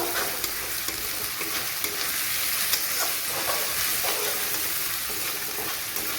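Stone-ground spice paste frying in a pan for a meat curry gives a dense, steady, close sizzle that hisses on without pause and without any voices.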